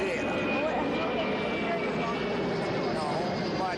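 Airplanes pass over an outdoor drive-in movie theater in Red Oak, Georgia, producing a steady, loud, broadband engine roar that fills the whole stretch without letup and with no talking.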